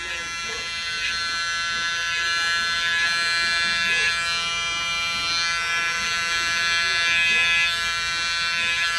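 Gamma EX Evo hair trimmers edge and sharpen a hairline in a barbershop, giving a steady, close electric buzz that runs without pause, with faint movement and background sounds beneath it.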